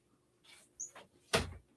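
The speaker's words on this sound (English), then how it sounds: "I have to close the door" A door is closed indoors: a few faint creaks and clicks, then one soft, short thud as it shuts, all very quiet.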